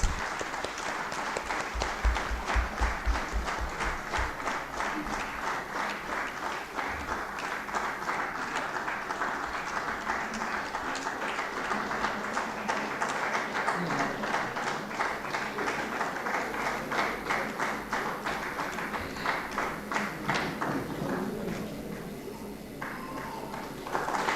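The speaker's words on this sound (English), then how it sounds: "We request all others to welcome our dignitaries with loud rounds of applause." Long, steady rounds of audience applause at a vigilance awareness week valedictory function, rhythmic clapping sustained for over twenty seconds and tapering near the end, with only faint background sounds.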